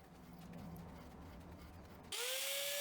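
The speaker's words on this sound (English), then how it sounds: "those are drilled in the drill press" A drill press bores mounting holes in metal parts for a lathe restoration, first a steady low grinding drone, then a sudden shift to a loud, high whine near the end.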